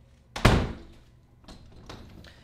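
A residential door swings shut with one loud thunk as the latch catches, followed by a couple of softer clicks and rattles as it settles.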